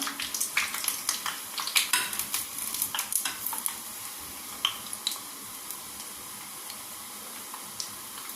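Uzhunnu vada crackles and sizzles in hot oil while being flipped, with a busy burst of spoon clicks and scrapes against the pan early on that thins out into a steady frying hiss, no voices.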